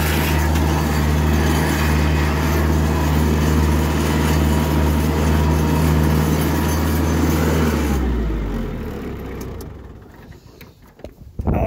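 A lawnmower engine runs stuck in a gravel pit, a loud steady drone that holds for about eight seconds, then dies away and leaves quieter scuffing and rustling.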